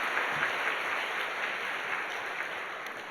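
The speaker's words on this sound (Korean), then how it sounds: "우리 박수하겠습니다." Church congregation applauding a visiting deacon during a Sunday service, a steady, even wash of clapping from many hands that holds at moderate level throughout, with no voices over it.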